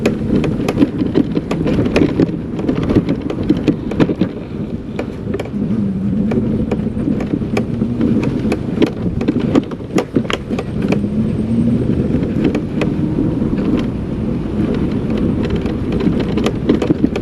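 Bajaj Chetak C25 electric scooter cruising on a road, a steady low whir mixed with road and wind rumble, continuous and fairly loud with occasional small bumps and clicks, no voices.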